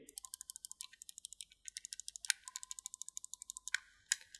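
Rapid clicking of the microswitch face buttons on a GameSir T4 Cyclone Pro wireless controller, dozens of sharp, close, evenly spaced clicks in quick bursts with brief pauses, no talking.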